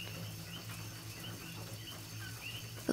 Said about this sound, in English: The coqui frogs continuing their sirens